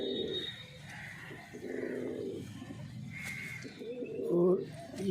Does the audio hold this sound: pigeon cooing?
yes